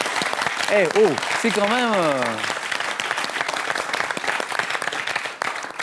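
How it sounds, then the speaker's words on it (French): Studio audience applause on a French TV quiz show, a steady dense wash of clapping running through the whole stretch while a voice speaks over it early on. "j'aimerais qu'on l'applaudisse"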